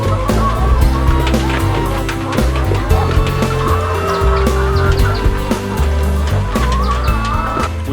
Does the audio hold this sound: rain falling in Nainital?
no